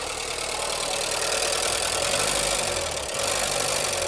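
An old car engine, left abandoned for years, idles on its own with a steady rough rumble and a fast mechanical ticking running through it, close and continuous.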